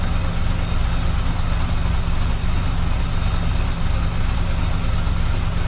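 A 1984 Bertone X1/9 engine, fitted with new fuel injectors, idles low at about 700 rpm, a loud, steady, close mechanical drone with an even hum and no pauses.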